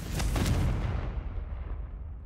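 A Confringo fire spell blast in the video game Hogwarts Legacy sounds as one loud, booming explosion with a sharp onset, then a rumbling tail that fades over about two seconds.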